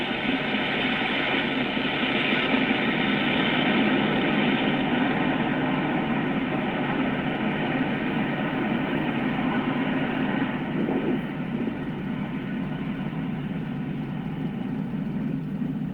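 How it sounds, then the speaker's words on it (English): Falcon 9 rocket liftoff from Space Launch Complex 40, a continuous loud broadband roar that holds steady and dense for the whole stretch, with no voices over it. "Falcon 9 has successfully lifted off from Space Launch Complex 40"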